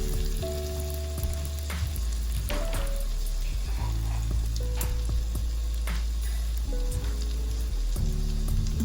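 Garlic paste crackles and sizzles in hot oil inside an Instant Pot, a dense close frying hiss with popping spatters and faint tonal beeps in the background, no talking.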